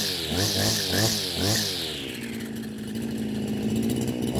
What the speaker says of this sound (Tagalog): Kahit gaano kalakas umikot ang trimmer head, basta tama lang po ang pagkakabit ng ating nylon line